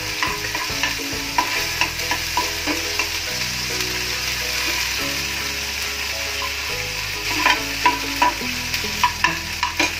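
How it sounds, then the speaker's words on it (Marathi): Ginger-garlic paste, coriander and green chili frying in hot oil, a loud constant sizzle with repeated scraping stirs and clicks of a utensil on the pan, close up. "तेल तापलंय, आले लसणाची पेस्ट घातली, कोथिंबीर आणि हिरवी मिरची होती"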